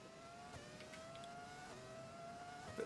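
A 2003 Formula 1 car's V10 engine in F1 2020 holds a high, steady whine through a continuous run, rising slightly near the end, loud and alone.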